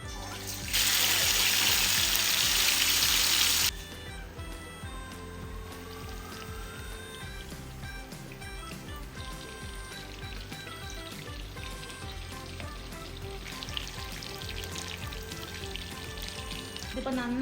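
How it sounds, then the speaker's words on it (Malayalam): Chicken pieces for a green chicken recipe fry in vegetable oil, opening with a loud, hissing burst of sizzle for a few seconds before settling into a softer, steady crackle and bubble. "ഇതിപ്പോൾ നന്നായിട്ട് ഫ്രൈ ആയിട്ടുണ്ട്."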